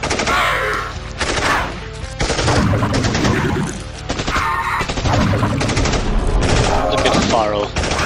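Dense, continuous gunfire in the space game Mission In Space: The Lost Colony, a loud, sustained barrage of rapid shots and impacts with no break across the whole stretch.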